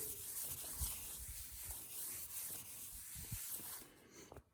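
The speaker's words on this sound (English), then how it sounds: "you kind of soak a rag and just quickly go over the whole table like this" A WD-40 soaked rag wipes quickly across a welding table, giving soft, close rubbing strokes in a quick, uneven rhythm that fade out at the end.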